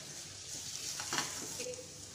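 Curry leaves and long-sliced onion frying in hot oil in a pan for a Kerala stuffed chicken gravy, giving a faint, steady, close sizzle that swells briefly midway, with no voices.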